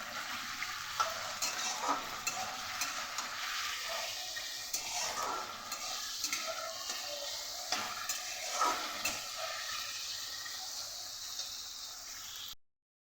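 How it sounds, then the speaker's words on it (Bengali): Potatoes sizzle steadily in hot oil with a pinch of salt, stirred with repeated scraping strokes in the pan, close and continuous without talk, for home-style fried rice. "আলুটাকে ভাজবো ভালো করে।"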